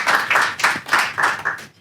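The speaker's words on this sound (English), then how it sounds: "Let's give him a round of applause." Audience applause at a membership meeting: a brief, fairly close round of clapping that pulses in uneven waves, then fades out quickly with no talk over it.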